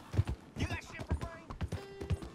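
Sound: horse hooves clip-clop in video game

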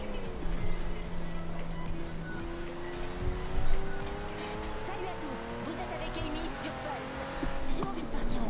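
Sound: racing cars in video game Forza Horizon 4

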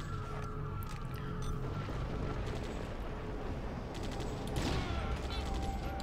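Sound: gunfire shooting boxes in video game Dredd vs Death

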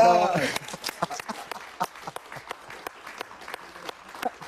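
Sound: studio audience applause for Leo Dan

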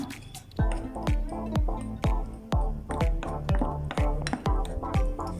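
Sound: mixing cake batter of flour in a bowl

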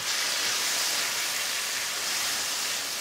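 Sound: sautéing garlic, onion and tomato in a pan

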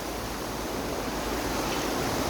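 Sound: river water flowing

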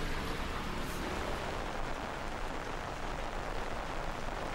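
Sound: heavy rain falling

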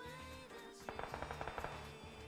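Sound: gunfire from a tech gun in video game PUBG Mobile

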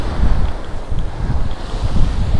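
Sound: foamy sea waves breaking on a beach

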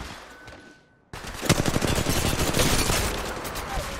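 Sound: gunshots in a shooting video game

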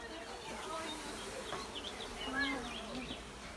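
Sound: honeybees buzzing at a hive during beekeeping

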